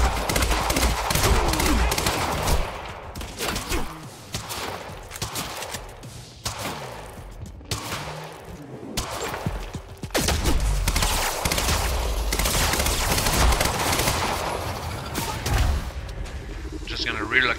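Sustained suppressing gunfire in the game Quantum Break, dense overlapping shots and blasts rolling almost continuously for many seconds with brief lulls, loud and close, with a voice talking over parts of it.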